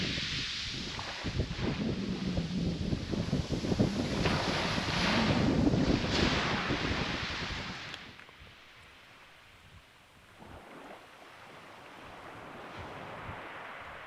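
Wind buffets the microphone over waves washing onto the shingle at Chesil Beach in Dorset, loud and rough at first, then dropping to a quieter rush of surf and breeze.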